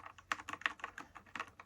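Typing on an Astrohaus Freewrite Gen 3 keyboard with individually sprung keys: a quick, fairly regular run of close, crisp key clacks, heard alone.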